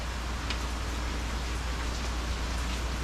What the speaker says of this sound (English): It is raining outside, man. Big time.